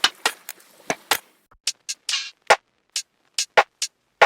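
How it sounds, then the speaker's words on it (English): Lo-fi drum loops play back in Logic, with crisp isolated kick, snare and hat hits in a loose, swung pattern, fairly quiet and dry with short gaps between beats. "So I'm going to pull in 2 drum loops from our free lo-fi pack"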